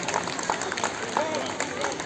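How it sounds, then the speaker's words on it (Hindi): Housing society crowd at an Independence Day celebration clapping to welcome a guest onstage, the applause mixed with chatter and voices over a busy background. "जोरदार तालियां।"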